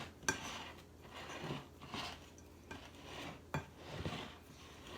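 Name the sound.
cutting fat into flour in a bowl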